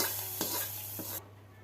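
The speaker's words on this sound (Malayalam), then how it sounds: "1 ടീസ്പൂൺ കടുക് ഇട്ട് കടുക് പൊട്ടി വരുമ്പം കറിയിലേക്ക് ഒഴിച്ച് കൊടുക്കാം" A hot coconut-oil tempering of crackling mustard seeds is poured into a jackfruit-seed curry, giving a brief loud hiss and sizzle with a few pops, then dropping to a quieter simmer.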